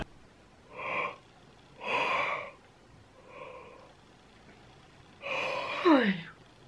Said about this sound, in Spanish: Eso ha sido el bostezo más largo de la historia.